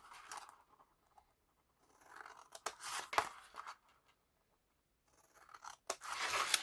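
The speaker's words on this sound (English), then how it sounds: "I'm going to place the scissors at the notch, and you're going to go diagonally down to the corners either side" Scissors snipping through paper card in a papercraft Christmas greenery project, a few short separate crunching cuts spread across several seconds, close and fairly quiet, with pauses of silence between them and no talk.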